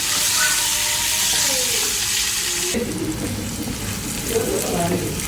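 Onions fry in a pan with a loud, continuous sizzling hiss that shifts in texture partway through, as if stirred, with low kitchen noise underneath.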